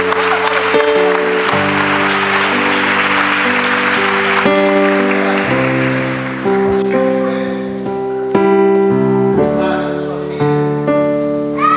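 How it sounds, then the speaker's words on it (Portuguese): A congregation applauds during a Catholic Marian devotion in May, a hiss of clapping that swells over sustained organ-like music and singing for the first few seconds, then fades as the music carries on. "Aplauda a Mãe de Deus neste mês de maio."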